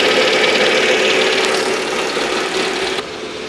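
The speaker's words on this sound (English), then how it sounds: "V6 engine," A 1997 Mercedes-Benz C240 with a 170-horsepower V6 idles with the hood open, giving a steady, close, even hum with a faint ticking texture and no talk over it.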